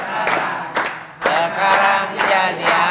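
Applause from a studio audience on a comedy talk show, rising in several loud bursts of clapping with brief lulls between them.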